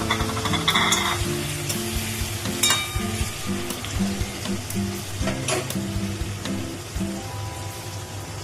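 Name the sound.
paneer frying in refined oil in a kadai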